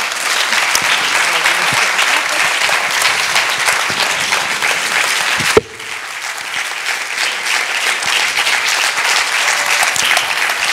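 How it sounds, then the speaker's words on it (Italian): Audience applause at an award ceremony, loud sustained clapping from a large crowd, close and steady, briefly dipping halfway before resuming at full strength. "chiederei un applauso veramente a tutti loro"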